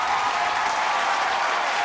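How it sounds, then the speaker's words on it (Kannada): A crowd applauds at a Kannada comedy show, a dense, uniform roar of clapping that stays loud and unbroken from start to finish. "ಇದಕ್ಕೆ ಹೊಡಿರಿ ಚಪ್ಪಾಳೆ"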